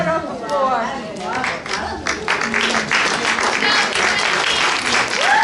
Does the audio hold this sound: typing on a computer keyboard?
no